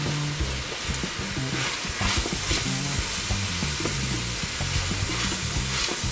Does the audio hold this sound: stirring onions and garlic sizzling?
yes